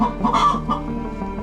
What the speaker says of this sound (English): This hen lays an egg